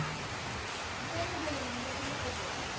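Steady rain falls outdoors as a continuous, even hiss of drops, fairly loud and close, with no pauses and no voices heard.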